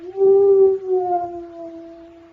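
A single dog howls gloomily as a radio drama sound effect, a loud sustained wail that slides and fades over a little more than two seconds, with no talk.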